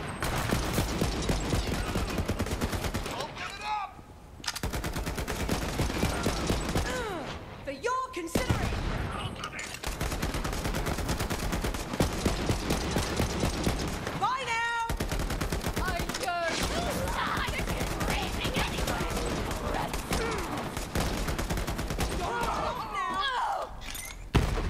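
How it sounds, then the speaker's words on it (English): Gunfire in Borderlands 3, a dense fusillade of rapid shots and shattering impacts running nearly nonstop, loud and close, with voices talking over the action. "I'm shooting."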